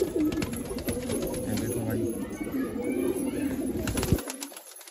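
A female pigeon kept in a loft coos in low, soft, repeated pulses, close and steady through the whole stretch, with faint background noise and a brief thump near the end before it falls quiet.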